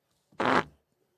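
A single wet, blaring fart sound effect, loud and close, lasting about half a second and then cutting to silence, played back as a replay during a live watch party for an NFL playoff game.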